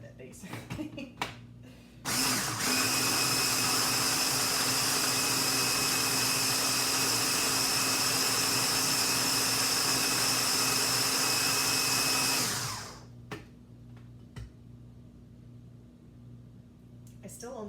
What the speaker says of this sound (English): Now we're going to blend this.